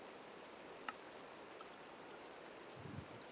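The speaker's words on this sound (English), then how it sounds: "This place rains a lot." Soft, steady rain falls in a Minecraft world as a faint, even hiss with a few scattered light ticks, quiet and unbroken by speech.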